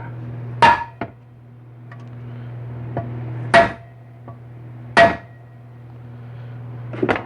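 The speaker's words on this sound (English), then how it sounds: "take your hammer and peen it" Sharp metallic hammer strikes on a punch in a GM 4L60E transmission case ring out, three loud blows spaced apart with a few lighter taps between, over a steady background hum.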